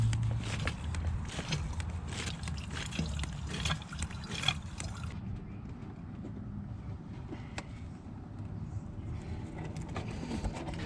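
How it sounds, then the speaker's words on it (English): Windshield washer fluid being siphoned from the reservoir of a 2016-2023 Chevy Malibu, a soft liquid trickle and slurp with light handling noise, fairly close and steady throughout. "Now it's time to siphon out your wiper fluid."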